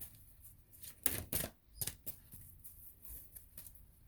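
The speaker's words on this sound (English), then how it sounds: "I'm going to shuffle again." Oracle cards being shuffled by hand, giving several quick papery riffles and snaps in short bursts with soft rustling between, close and fairly quiet.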